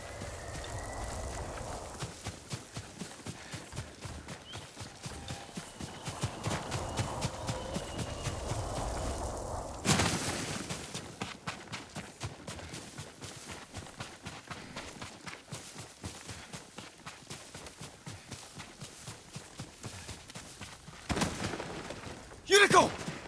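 Horse hooves clip-clop in a steady, rhythmic trot over ambient background in the video game Ghost of Tsushima, with a sharp impact midway and a brief burst near the end.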